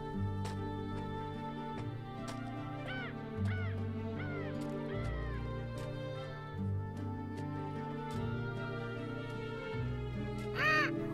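Crows caw in a few harsh repeated calls over a steady bed of music, fairly faint and spaced out.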